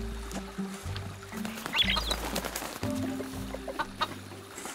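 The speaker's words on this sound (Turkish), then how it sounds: "Tavuğu da öyle bir yere koymuşlar ki ses çıksın diye." A chicken in the Wild West video game El Hijo clucks repeatedly over a low droning game ambience, its short clucks scattered through the scene at moderate volume.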